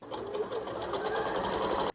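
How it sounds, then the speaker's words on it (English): A sewing machine stitches a new cushion cover inside a van on a cold snowy morning on Dartmoor, running in a close, steady, rapid chatter for about two seconds before stopping abruptly. "So while we're here with the sewing machine out, we're fashioning me a new cushion cover"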